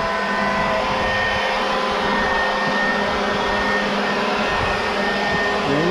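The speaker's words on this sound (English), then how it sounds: "Look at that blower work." A pet grooming blower dryer runs continuously at high speed, a loud steady whooshing roar with a constant whine, no pauses throughout.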